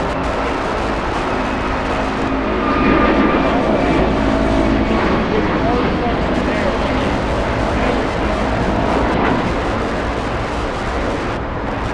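An airliner lands on the south side of Los Angeles International Airport, a loud continuous jet roar with rumbling wind noise that holds steady throughout.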